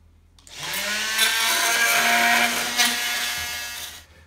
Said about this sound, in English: I cut through there with my multi-saw